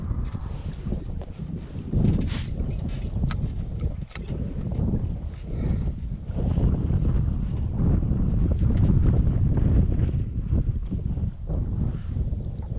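Steady wind buffets the microphone in a constant low roar, with faint water and boat noise underneath and no talking, while fishing for white perch in New Jersey.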